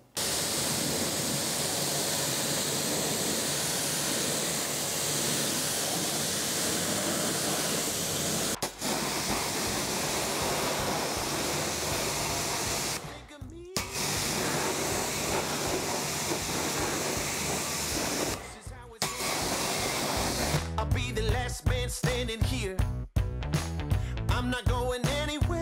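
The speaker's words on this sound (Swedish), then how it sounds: "så nu är det dags att spola av" Water spray rinsing down a neglected Mercedes 200 car during its first wash in a long time, a loud continuous hiss with brief interruptions as the spray pauses, ending in choppier bursts.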